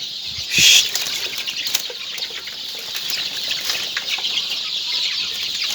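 Local desi chickens on a small poultry farm, with a brief loud burst of wing flapping and clucking near the start, then a steady background of hen clucks and rustling.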